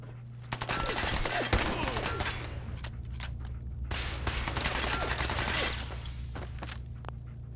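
Gunfire from the video game Fallout 4: a dense fusillade of rapid shots with sharp cracks and a steady low rumble, loud and continuous throughout.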